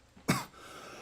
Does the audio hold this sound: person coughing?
yes